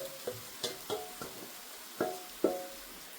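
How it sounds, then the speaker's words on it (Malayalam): Grated boiled egg filling is stirred in a pan, with a few soft scraping and tapping strokes spaced irregularly over a quiet background. "ഇത് നന്നായിട്ട് മിക്സ് ചെയ്തെടുക്കാം."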